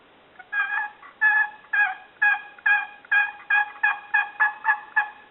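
A homemade wooden turkey box call, chalked and scuffed on the lid, rasps out a series of about ten sharp yelps in a steady rhythm, close and fairly loud, with no talking.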